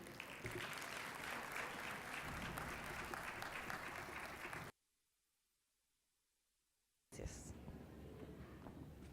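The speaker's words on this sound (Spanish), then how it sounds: "Les quiero pedir un aplauso para recibir a Lucía Saldaña" Audience applause greets a speaker arriving at a women-in-science-and-technology talk, a dense steady ovation lasting about four seconds, then a sudden silent gap, then clapping resuming just as loudly.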